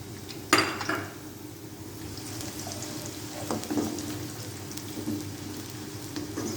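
Chopped onion going into hot oil in a pan for chana pulao with raisins, giving a sharp sizzling burst at the start that settles into a steady, moderate frying hiss with faint clinks of utensils.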